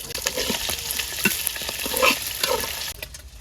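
Shrimp fry in hot oil in a wok over a tomato base, a steady close sizzle broken by scraping stirs and clatter of the utensil, fading slightly at the end.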